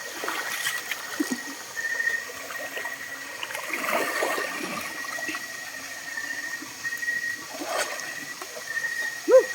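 Water at Anyap Falls in Tanay, Rizal, heard at night as a soft, steady trickle and splash with occasional louder splashes, fairly faint and close by.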